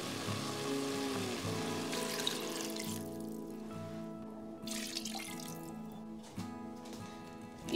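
Half a litre of water poured from a tap or jug into a pot of pork pilaf as it cooks, a steady splashing stream that fades to light dripping near the end, close and with no talk.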